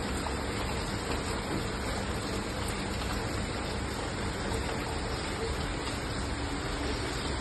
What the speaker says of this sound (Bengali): বৃষ্টি তো পড়ছে, ভালো জোরেই বৃষ্টিটা পড়ছে